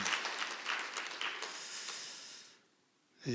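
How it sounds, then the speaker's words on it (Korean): A church congregation applauds together at a Sunday worship service, a dense, steady clapping that fades out over about two and a half seconds, leaving a brief quiet before another sound starts. "박수로 감사를 표현할까요?"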